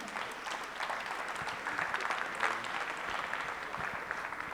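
Audience applause at an awards event in a Brussels hall, a continuous, moderately distant patter of many hands clapping that holds steady throughout.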